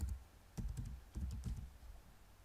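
A computer keyboard is typed in short bursts while a file path is renamed, a few clustered key clicks with thumps, close and fairly clear against a quiet background.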